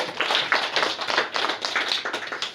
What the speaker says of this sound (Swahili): tumpigie makofi mazito